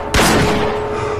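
A gunshot sound effect from an attack in which a group fires at a man: one sudden, loud blast that rings out and fades slowly over a steady low hum.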